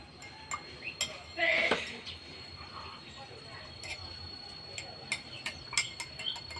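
A spoon clinks and taps against a glass beaker while stirring butter, scattered light strikes, close by and quiet, with a brief louder rattle partway through.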